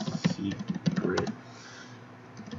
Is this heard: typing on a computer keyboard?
yes